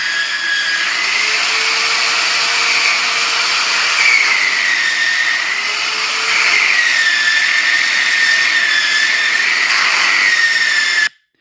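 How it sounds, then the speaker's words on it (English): Loud, steady whine of a power sander polishing aluminum, running continuously, pitch wavering slightly as it works against the metal, stopping abruptly at the end. "I'm using this sander here to polish my aluminum."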